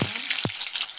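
Potatoes fry in hot oil in a wok, a close, steady crackling sizzle with a couple of brief sharp scrapes near the start; no voices.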